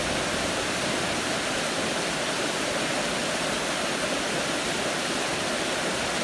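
A river rushes past in a steady, loud, broadband roar of flowing water along the Appalachian Trail, continuous and unchanging with no voices.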